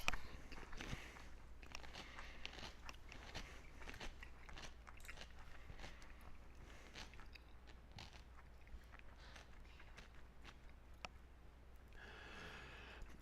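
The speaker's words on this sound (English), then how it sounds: "So do people care if I crunch pickles?" Crunching from bites of pickles, a series of faint, sharp crackly snaps scattered irregularly across a quiet room with low background hum and no talking.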